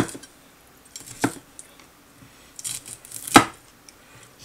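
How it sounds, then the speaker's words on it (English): Broccoli being chopped with a knife, a few sparse, sharp cutting taps against a board spaced irregularly over several seconds, close and otherwise quiet. "just chop it up a little bit"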